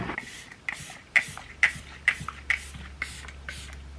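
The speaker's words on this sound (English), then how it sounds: "I'm going to go ahead and spray my face with my setting spray" A series of quick pump sprays of Rare Beauty makeup setting spray onto a face, about seven evenly spaced hisses, close up and fairly loud.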